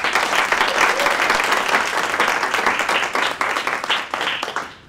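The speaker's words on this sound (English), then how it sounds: "Let's give them a round of applause." An audience at a dance legacy conversation event breaks into a steady round of applause, a dense, loud wash of many clapping hands that fades out at the end.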